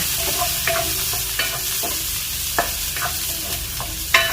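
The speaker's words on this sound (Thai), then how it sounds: "ผัดฮอดอกให้พอสุกสักครู่หนึ่งนะคะ" Sliced hot dogs sizzle steadily in butter in a hot pan while a utensil scrapes and stirs them, with periodic clanks against the pan.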